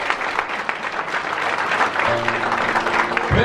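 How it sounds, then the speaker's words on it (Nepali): A church congregation clapping loudly in steady dense applause, with a low hum and a few tonal sounds entering near the end. "अनि जोडले ताली बजाउनुस् न।"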